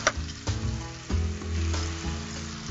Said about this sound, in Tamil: ஓமம் வறுத்ததுமே அதனுடைய வாசம் நல்லா இருக்கு